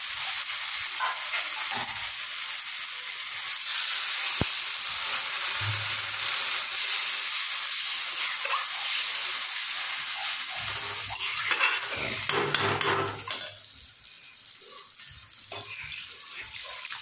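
Water poured into a pan of fried tomato and spice masala, a broad running hiss with stirring and light sizzling clatter, close and fairly loud, easing off near the end.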